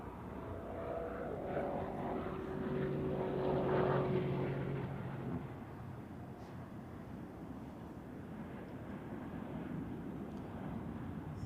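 A VistaJet business jet at Zurich Airport makes a faint, distant, broad engine roar that swells for a few seconds and then fades into a steady background rumble.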